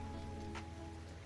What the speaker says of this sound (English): I'm fine with just rain sounds too.